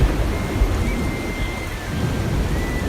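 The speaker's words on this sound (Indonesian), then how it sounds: "Hujan lebat sekali sepanjang hari, setiap hari." Heavy rain pours steadily and loudly, with low rumbling thunder rolling underneath throughout, no voices.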